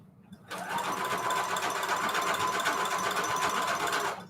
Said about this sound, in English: I'm using a zigzag stitch at 3 length and 6 width.